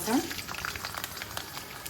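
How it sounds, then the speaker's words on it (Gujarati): Chopped garlic frying in hot oil in a pan for amaranth leaf bhaji, a steady close crackling sizzle that runs evenly throughout with a brief louder burst near the start. "લસણ થોડું લાલ થાય એટલે લીલા મરચાં પલાળેલી મેથી એડ કરી અને 5 થી 10 સેકન્ડ એને સાંતળીશું"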